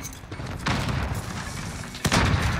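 A shotgun blasts in a first-person shooter during a search-and-destroy match, with two sharp, loud booms about a second and a half apart over low background game noise.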